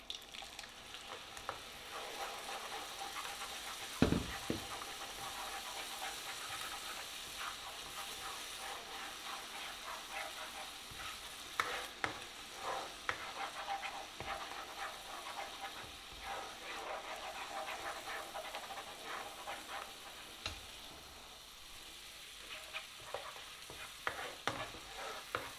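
Onion fries in a pan for lamb rogan josh, a quiet, even sizzle running throughout, punctuated by occasional spoon knocks and stirring scrapes at irregular intervals.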